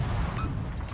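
A torpedo hits a King George battleship in World of Warships, a deep rumbling boom that fills the whole brief moment, loud and close, with no talking.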